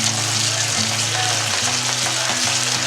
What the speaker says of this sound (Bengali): এটা মিডিয়াম লো ফ্লেমে ভাজবো যতক্ষণ না টমেটোটা ভাজা হয়ে যায়